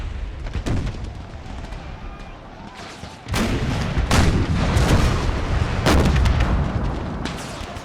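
Cannon artillery fires across a battlefield in an Empire: Total War mod set in the American Civil War, with several loud booming shots landing over a constant rumble of distant gunfire and battle noise.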